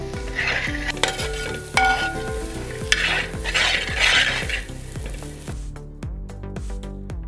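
Cubed potatoes and carrots tossed into a pan for green peas kurma, stirred with a rhythmic scraping and clatter of a utensil against metal over a light sizzle, close and continuous.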